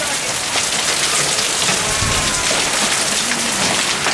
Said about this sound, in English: So this is what we have in terms of hail right now.